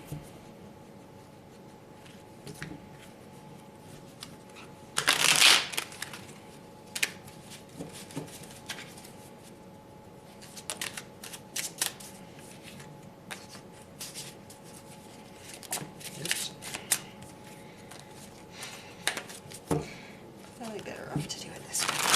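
A Rider-Waite tarot deck is handled and shuffled, with one loud riffling burst near the start followed by scattered soft card slaps and rustles, all under quiet, close, whispery speech.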